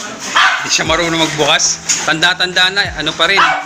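A family dog barks in short, sharp bursts at a door during a friend's surprise birthday, the yaps mixed in with close, overlapping talk.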